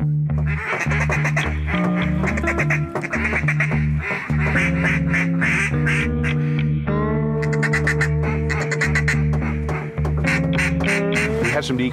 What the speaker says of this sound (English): When we start blowing duck calls,